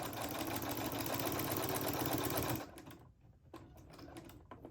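A sewing machine stitches a thick fabric jar opener in a fast, steady whirring run for about two and a half seconds, then stops, leaving faint handling sounds.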